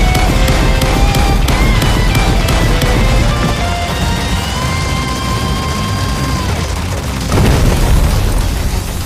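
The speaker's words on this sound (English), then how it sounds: "Watch out for explosions." Loud explosions in the shoot 'em up game Raiden V boom and crackle in rapid succession over electronic tones, ending with another heavy burst near the end.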